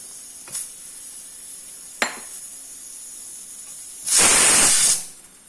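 Sliced onions hit hot ghee with ground spices in a pan for rajma, and a loud burst of sizzling hiss lasts just under a second before fading. Two faint utensil clicks come earlier over quiet background noise.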